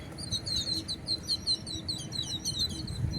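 Small birds chirp in quick, repeated high-pitched calls, fairly faint, over a low outdoor rumble.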